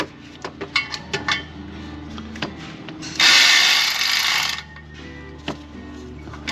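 A ratchet spins a long bolt down into its threads on a Jeep Grand Cherokee 4.0 engine: a few sharp metallic knocks, then a loud, steady buzzing ratchet run for about a second and a half, followed by more light clanks.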